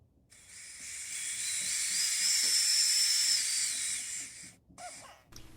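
Shielding gas hisses through a MIG welder gas regulator, a steady hiss that builds, holds for several seconds, then cuts off, followed by faint handling noises.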